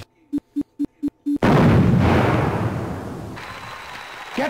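A cart bomb in The Journeyman Project Turbo goes off after a run of five short electronic beeps, with one sudden loud blast that rolls into a long, fading rumble and a thin high tone near the end.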